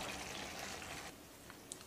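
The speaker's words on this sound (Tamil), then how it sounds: "1/3 ஸ்பூன் அளவுக்கு தண்ணி சேர்த்து மிக்ஸி ஜாரை கழுவி ஊற்றிக்கலாம்." Water used to rinse a mixer jar is poured out in a home kitchen while making rotti, a soft, faint splashing trickle that tapers off after about a second.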